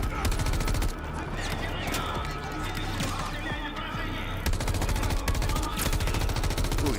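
Rapid gunfire from a video game trailer at Gamescom, dense and loud, with bursts running through the whole stretch over a busy mix of horse whinnies and hoofbeats.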